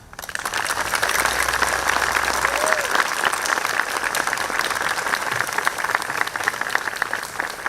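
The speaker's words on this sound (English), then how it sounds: "Let's go ahead and give Mia another round of applause, please." An audience at a Night in Oaxaca 2022 community event gives speaker Mia sustained applause, a dense, even wash of clapping that swells quickly and holds steady for several seconds, with faint crowd murmur underneath.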